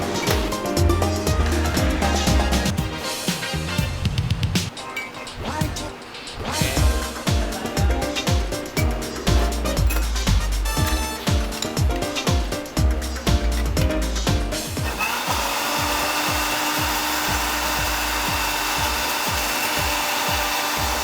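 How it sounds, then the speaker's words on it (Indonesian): A blender purees mango with a little sugar and water, ending in a loud, steady whirring that runs unbroken over the final stretch after a busier, rhythmic clatter earlier on. "Diblend sampai halus ya."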